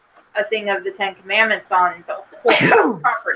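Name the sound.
sneeze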